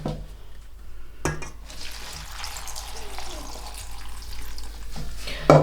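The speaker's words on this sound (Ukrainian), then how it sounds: "Зараз я їх залию водою і промию." Water pours and splashes into a bowl of honey mushrooms, a continuous rushing wash with a few clinks at the start and end.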